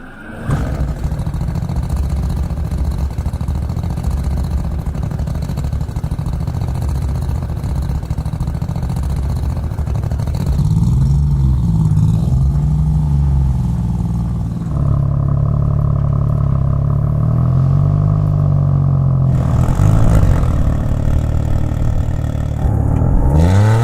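A Koenigsegg Gemera car drives with a steady, loud engine drone that swells and shifts pitch as it revs, with no talking.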